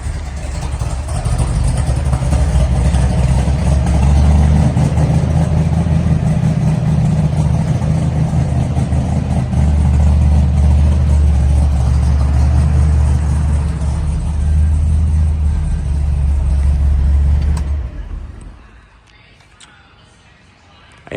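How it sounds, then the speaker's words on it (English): A 1969 Chevrolet Camaro V8 with chambered dual exhaust runs loud and close, with a deep, steady, throbbing idle and slight swells in revs. It cuts off abruptly near the end, leaving near silence. "Chambered dual exhaust. Fire it up so you guys can hear it."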